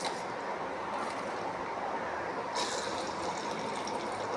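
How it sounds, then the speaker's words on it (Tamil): Onions sizzling in hot oil in a kadai, a dense, steady hiss and crackle of frying heard up close, with a slight brightening partway through and no speech. "வெங்காயம் போட்டு வதங்கட்டும்"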